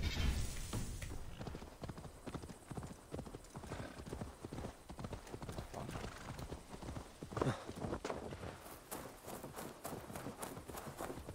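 Rapid, steady clip-clop of galloping horse hooves in Assassin's Creed Valhalla, continuous and fairly close, with a brief whinny near the start.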